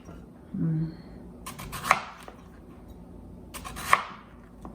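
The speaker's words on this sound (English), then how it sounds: "Cutting up rutabaga, because then we have to roast the rutabaga and the sweet potato." Knife strikes a cutting board twice while rutabaga is cut up in a busy restaurant kitchen, the crisp chops spaced about two seconds apart over low background murmur and clatter.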